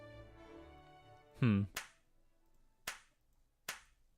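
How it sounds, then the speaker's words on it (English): Three slow, sharp claps in a video game ring out, evenly spaced about a second apart, right after a voice speaks and a rising synth tone sweeps upward. "Slow clap."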